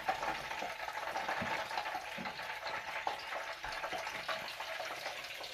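Chinese steak refrying in hot oil, a continuous crackling sizzle with scattered pops and light stirring clicks, fairly faint and steady.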